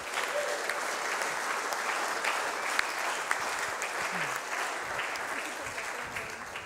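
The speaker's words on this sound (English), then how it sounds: "Can we give God a round of applause?" A church congregation applauds at an inauguration service, with steady, dense clapping filling the room throughout and a faint murmur of voices underneath.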